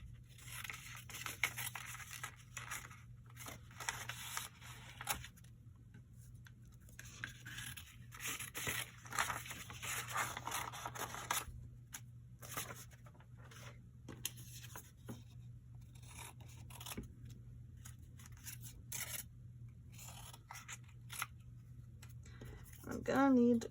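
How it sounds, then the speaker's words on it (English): Scissors cut out paper pieces for a junk journal made from paper bags in soft, irregular snips and rustles, fairly faint and close, with a faint hum and some quiet talking mixed in. "And then I need to just cut these out."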